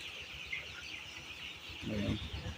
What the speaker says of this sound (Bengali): এই ফার্মটিতে এগারোশো মুরগির বাচ্চা রয়েছে